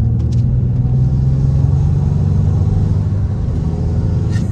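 A Renault Talisman drives on a mountain road, its engine a loud, steady low rumble heard from inside the car, holding a constant drone throughout.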